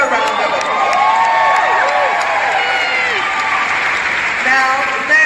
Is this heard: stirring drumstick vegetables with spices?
no